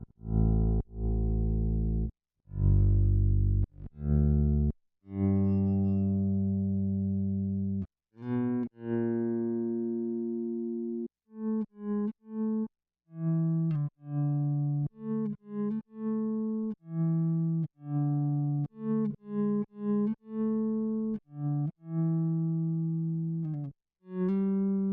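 Bass guitar played through an Electro-Harmonix Platform stereo compressor pedal: a run of sustained, heavily compressed notes, first low and long, then a quicker sequence of punchy, evenly levelled plucked notes with brief gaps, alone and no talking.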